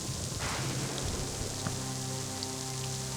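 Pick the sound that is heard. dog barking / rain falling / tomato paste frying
rain falling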